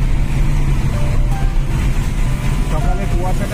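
Road traffic near Santragachi railway station on a morning drive toward Kolaghat, a loud steady rumble of car and engine noise heard from inside a moving vehicle, continuous throughout.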